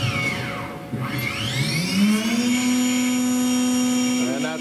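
A Haas VF3 CNC vertical machining center spindle winds up to high speed, a rising whine that sweeps upward and then holds as a steady, loud tonal hum with bright overtones, close and continuous.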